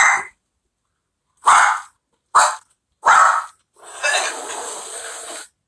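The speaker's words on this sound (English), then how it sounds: "The dog's scared." A frightened dog reacts during a Halloween scare prank, giving a sharp yelp and three loud barks with pauses between, then a rough, noisy growl lasting nearly two seconds.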